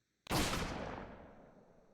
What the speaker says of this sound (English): they heard a gunshot in the distance.